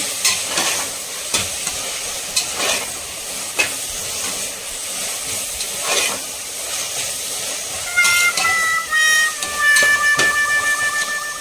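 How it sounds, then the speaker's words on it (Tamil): Mint and coriander leaves sauté in a pan for basmati mutton biryani, a steady close sizzle with repeated scraping stirs, and a thin whistling tone rises near the end. "லைட்டாக வதக்கிட்டு அதுக்கப்புறம் கர்ட் வந்து ஆட் பண்ணலாம்."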